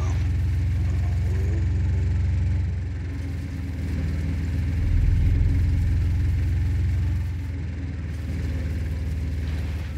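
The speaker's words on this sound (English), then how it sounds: "Sounds like it's powered by a lawnmower engine." A vehicle engine in a video game drones with a buzzy, lawnmower-like rumble, holding a steady low note that swells louder midway and eases back, with no speech over it.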